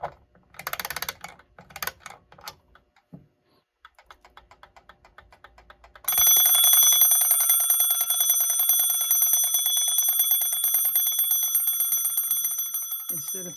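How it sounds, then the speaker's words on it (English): An antique alarm clock from around 1898-1902 is wound with a run of ratcheting clicks, then its bell rings continuously, loud and metallic, a rapid sustained ringing that fades only slightly. "Instead of chiming on the half hour or the hour, this is an alarm clock."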